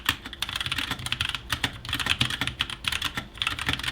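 Steady, brisk typing on a wireless RGB mechanical keyboard with brown switches, dense clacking keystrokes at close range with no talking over them.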